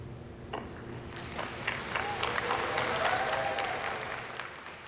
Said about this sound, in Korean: 서산갯벌의 세계자연유산 등재 확정 순간 환호성과 함께 박수가 터져 나옵니다